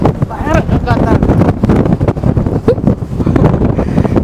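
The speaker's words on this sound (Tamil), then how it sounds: "பயங்கர காத்தா இருக்கு" Strong wind buffets the microphone on a hilltop, a loud, continuous roaring rumble with gusts, while people talk throughout.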